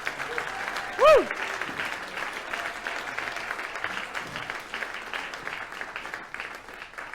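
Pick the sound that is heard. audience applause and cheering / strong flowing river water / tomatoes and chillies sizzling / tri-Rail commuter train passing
audience applause and cheering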